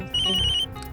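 A phone ringtone for an incoming call from the mother, a bright repeating electronic tone that sounds loud for about half a second over a low background hum, then stops.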